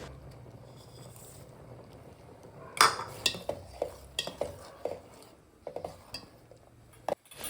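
A spoon stirs powdered jaggery into bottle gourd payasa in a metal pot, giving a soft, intermittent run of clinks and scrapes against the pot over a quiet background, without speech.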